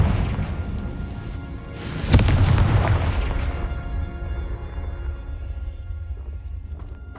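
Confringo spell explosion in Hogwarts Legacy, a sudden loud burst about two seconds in followed by a long rumbling decay, with lighter background game sounds around it and no talking.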